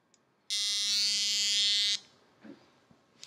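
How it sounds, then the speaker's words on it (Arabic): A Galaxy S4 phone's vibration motor buzzes loudly and steadily for about a second and a half, close up and alone, then cuts off, leaving a few faint handling knocks. "تسمعون صوت الهزاز؟"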